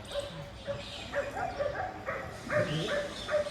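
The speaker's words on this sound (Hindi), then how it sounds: "वो देखिए, कुत्ते भौंकने लगे हैं।" Dogs barking during a Hindi stage drama rehearsal, a run of repeated moderate barks and yips at an uneven rhythm, somewhat distant amid room noise.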